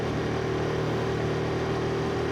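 A KTM 390 Duke motorcycle engine runs steadily up close, a continuous, even drone with no talking over it.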